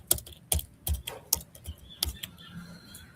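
Keystrokes on a computer keyboard in uneven bursts of a few taps, close and fairly quiet, with no talking.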